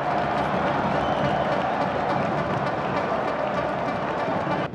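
A stadium crowd at Arena das Dunas roars after América scores the opening goal in a football match, a loud, sustained wall of cheering with clapping mixed in that stays level for several seconds.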